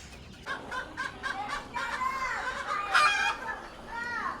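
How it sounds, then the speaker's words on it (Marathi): Free-ranging country hens calling as they come ready to lay, a run of repeated rising clucks and drawn-out cackles, fairly close and continuous, with faint voices nearby. "दादा आता हा जो आवाज येतो ह्या कोंबड्या अंड्याला आले"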